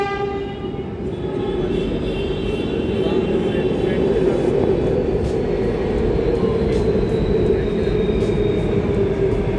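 Steady rumble and rushing roar of a Delhi metro train in motion, continuous and fairly loud throughout, with faint tonal whine above and people talking quietly in the carriage.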